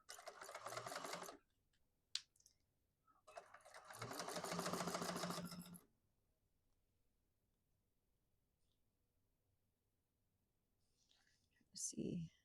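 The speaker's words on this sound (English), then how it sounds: "I'm going to chain stitch all of these down each side." A sewing machine chain stitches the seams of a fabric bag in two quick, rapid bursts separated by quiet pauses, with a faint whisper and a short spoken moment at the end.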